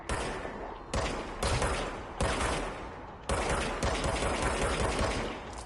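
Loud bursts of rapid gunfire from a gun in the video game Control, several sustained volleys separated by brief gaps, with no voices over them.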